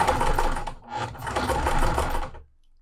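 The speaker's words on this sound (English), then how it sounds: "So I'm putting it right up against my seam guide." Sewing machine stitching cotton fabric at a quarter-inch seam, a close, loud mechanical whir running for about two seconds with a brief dip before stopping.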